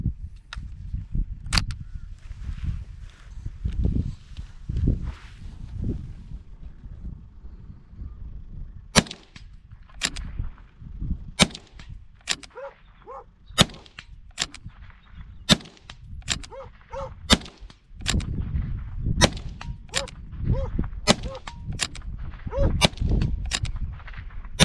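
A CZ 515 rimfire rifle fires a mag dump at a steel target, giving a long run of sharp cracks that speed into quick, evenly spaced shots, each with a metallic ping, heard close outdoors.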